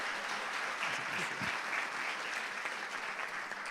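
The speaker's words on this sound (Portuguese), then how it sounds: "Vamos aplaudir Jesus pelo Flávio." A church congregation applauding during a celebration service, dense steady clapping from many hands that fills the room without a break.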